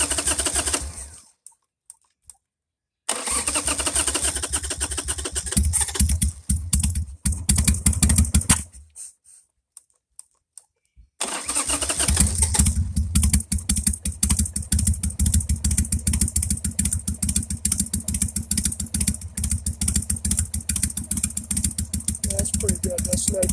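A Harley-Davidson Sportster motorcycle engine with a swapped carburetor cranks over in choppy bursts with short gaps of silence, then catches and settles into a loud, steady, rapidly pulsing idle close to the microphone.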